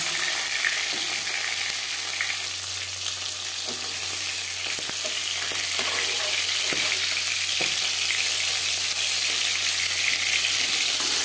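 Fish pieces and fish head frying in hot oil in a pan after being flipped, a loud continuous sizzle with occasional stirring clicks, steady throughout and without speech.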